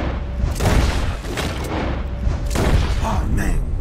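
Gunfire in the video game Red Dead Redemption 2: loud, booming shots fire at roughly one-second intervals over a rumbling background, with a voice talking in between.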